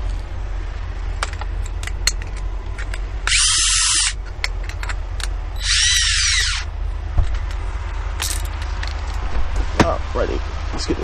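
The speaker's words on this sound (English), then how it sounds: "we're going to go ahead and drill our hole" A power drill whines in two short bursts, close and loud, drilling a hole while installing a load scale, separated by a few seconds of clattering handling noise.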